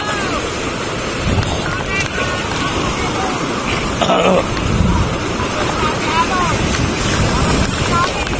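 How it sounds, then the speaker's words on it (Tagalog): Continuous rushing surf with breaking waves and gusty wind at Dinahican beach, Infanta, across the whole stretch, with people talking nearby. "Lalaki ng alon, no? Sarap."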